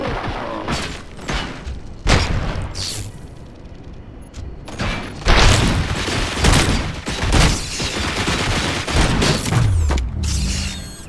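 Gunfire in the RoboCop: Rogue City video game, loud bursts of shots and heavy thuds in an irregular sequence, mixed with mechanical clanks and booms throughout a chaotic firefight.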